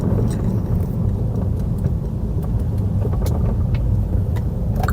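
A car moving through steady traffic on a driving test route in Yeading, with a continuous loud road and engine rumble and passing vehicle noise throughout, no talk.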